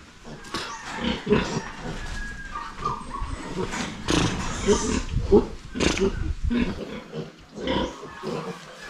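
A young sow grunts and squeals on a farm, with repeated close snorts and oinks mixed with a person's calls and talk.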